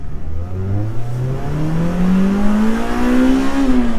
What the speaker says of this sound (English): See what this car sounds like. It's warmed up nicely.